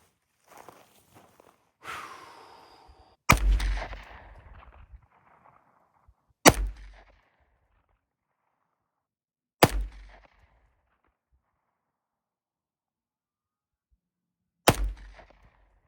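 Four rifle shots with Accurate No. 9 ammunition are fired at a 400-yard target. Each is a sharp, loud crack with a short decaying tail, spaced several seconds apart in otherwise quiet surroundings, with faint handling noise before the first.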